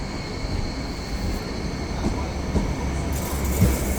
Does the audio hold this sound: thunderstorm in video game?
no